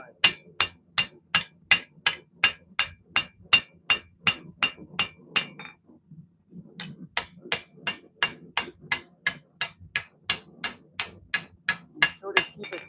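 A knife blade is hammered on an anvil in a forge, with sharp ringing metallic strikes in a steady rhythm of about two per second, a brief pause midway, then another run of evenly spaced blows.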